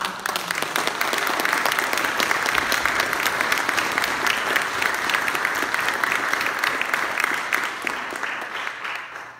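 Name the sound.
audience applause for debate candidates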